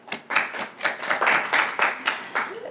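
Loud applause from an audience at a public expose, sustained clapping with rhythmic swells over nearly three seconds, close and full.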